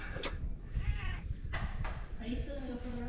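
House cat meowing indoors, a few short high cries near the start and middle while a person talks over and between them.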